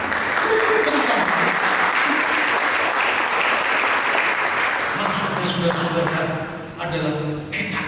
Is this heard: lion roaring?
no